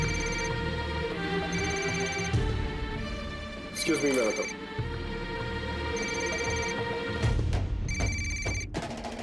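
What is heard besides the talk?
mobile phone ringing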